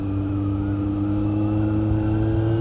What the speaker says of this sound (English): The exhaust I got is the LV Corsa GP exhaust